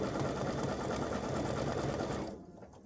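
Embroidery machine stitching an applique design on a side-seam elf hat, a steady fast mechanical rattle running continuously and loud up close, then cutting off abruptly near the end.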